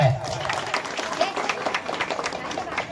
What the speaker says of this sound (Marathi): सन्मानाच्या जोरदार टाळ्या